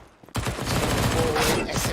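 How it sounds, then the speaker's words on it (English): SMG burst fire during a Counter-Strike: Global Offensive match on Dust 2. It follows a short quiet moment and continues as dense rapid shots, loud and close, for the rest of the moment. "SMG bursting through, does take a secondary kill"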